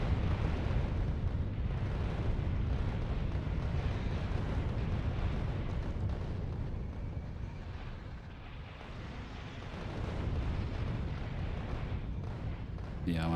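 Rocket explosions in Factorio rumble in a continuous, heavy, booming roar against a massive hive, loud and sustained with a slight dip midway; a voice talks over it.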